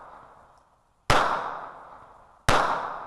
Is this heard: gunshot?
yes